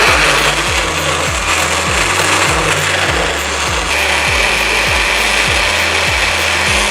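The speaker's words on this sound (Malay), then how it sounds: "Agak-agak je bagi blender boleh jalan." A kitchen blender grinds garlic and ginger with a loud, continuous whirring roar that carries a rhythmic pulsing churn, steady from start to finish.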